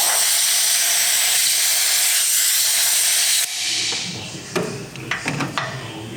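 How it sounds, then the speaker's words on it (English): Compressed air blasts into a cleaned fuel filter housing on a Toyota diesel, giving a loud steady hiss for a few seconds before it cuts off. A quieter stretch with several sharp clicks and taps follows. "Use that compressed air that I got here."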